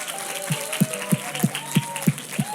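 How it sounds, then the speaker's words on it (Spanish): Applause from a small audience at a family-themed talk, heard as a few scattered, fairly faint claps spaced evenly under a background hum. "Le damos un aplauso, por favor."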